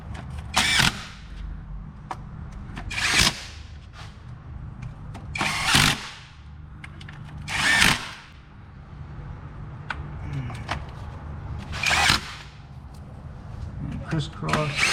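Power tool tightening valve cover bolts on a Mazda 3, in short bursts of whirring roughly every two to four seconds, about six in all, over steady background noise.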